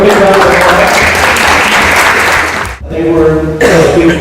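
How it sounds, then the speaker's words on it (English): A large audience at a Union Co-op Council tenth anniversary event bursts into loud, sustained applause, a dense wash of clapping that drops briefly near the end before picking up again, with some murmuring and a cough mixed in. "Give them a big round of applause."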